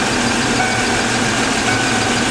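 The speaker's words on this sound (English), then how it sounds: "Okay, we've got the engine running now." A car engine idles steadily during an injector test, giving a loud, close, continuous rumble with an even mechanical drone and no talking.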